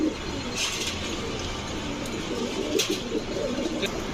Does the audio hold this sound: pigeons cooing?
yes